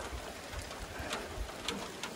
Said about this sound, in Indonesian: Ini cuacanya panas tapi hujan